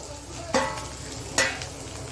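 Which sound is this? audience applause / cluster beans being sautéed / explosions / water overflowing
cluster beans being sautéed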